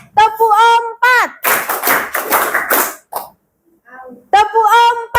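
Group of people in a classroom clapping game, a voice calls out a count, then a burst of about four sharp, close hand claps follows, and the call starts again.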